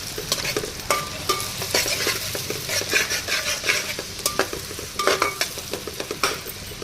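Food fries in groundnut oil with a continuous close sizzle, while a metal spoon stirs and scrapes against the pan in repeated clacking strokes; the frying stays loud throughout and no one speaks.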